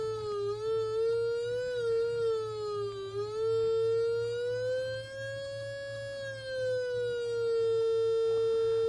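Distorted test tone through a homemade four-track fuzz guitar pedal, a buzzy sustained note that slowly wavers in pitch over a steady low hum, heard alone at moderate level.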